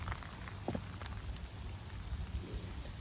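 Steady outdoor rain patters in a continuous hiss of drops on surfaces, close and fairly even throughout, with no voices.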